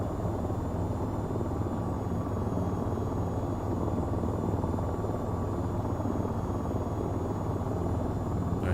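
Steady, loud rotor drone of an attack helicopter flying slowly up a mountain in the VTOL VR game, a continuous dense thrum filling the whole stretch with no talk over it.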